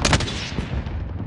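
Rapid gunfire bursts in the Warzone video game, loud and close, with dense repeated shots through most of a short moment and no talk over them.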